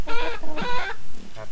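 A flock of about fifteen egg-laying chickens clucks in a coop, giving a few short, nasal, closely spaced calls near the listener.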